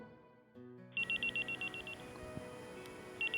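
A phone rings with a string of rapid electronic beeps in short bursts, repeating after a pause over steady background noise.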